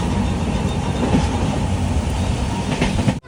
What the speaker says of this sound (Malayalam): ട്രെയിൻ ഇപ്പം കൊങ്കൺ റെയിൽവേയിലേക്ക് കയറിയിരിക്കുകയാണ്